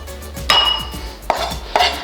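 A knife chops through small cucumbers on a cutting board with three sharp, close thuds, spaced unevenly and standing alone without speech.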